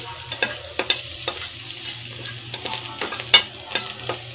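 Finely minced shrimp stir-fried in a pan with a steady sizzle, punctuated by repeated sharp scrapes and clinks of the spatula at an uneven pace, heard close with no voices.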